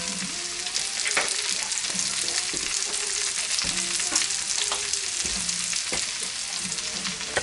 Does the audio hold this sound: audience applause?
no